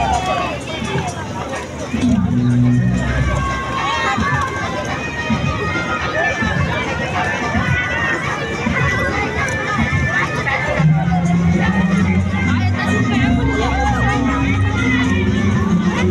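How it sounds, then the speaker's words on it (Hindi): Crowd at a night fair in Faridabad's Sector 19, a dense steady hubbub of many voices with music and ride noise, continuous and loud throughout. "जैसे जैसे रात हो रही है वैसे वैसे भीड़ बढ़ता जा रही है अपनी"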